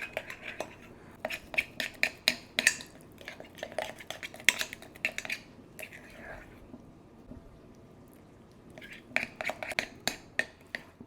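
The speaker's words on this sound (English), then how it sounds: "Okay, now we're just going to start mixing it around." A spoon scrapes and clinks against a bowl while stirring chocolate chip biscuit dough with whole milk, in quick irregular clatters that pause briefly in the middle before starting again.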